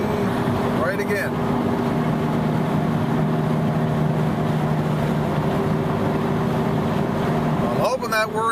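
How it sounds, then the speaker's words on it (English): A worn wheel bearing on the left side of a car gives a steady droning whir while the vehicle drives on the highway, with brief voice sounds at the start and end. "I'm hoping that whirring noise is coming through"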